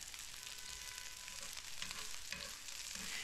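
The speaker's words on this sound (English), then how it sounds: "So we're gonna cook up the onions first." Onions frying in a pan on an electric stove, a steady broadband sizzle with soft stirring scrapes and clinks appearing toward the end, close and moderately quiet, with no talking.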